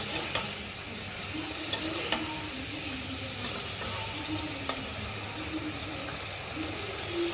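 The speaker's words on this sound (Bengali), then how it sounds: "এখন মশলার সাথে ভালোভাবে মিশিয়ে নেব সবজিগুলো" Vegetables being stirred with spices in a hot pan, a steady sizzle running throughout with occasional sharp scrapes and clacks of a utensil against the pan, close and moderately loud with no voices.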